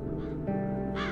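Crows caw in The Dark Eye: Chains of Satinav game audio, a short harsh call or two over a steady low ambient bed, moderately loud and close.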